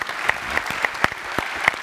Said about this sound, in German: Das ist einen kleinen Applaus wert, würde ich sagen.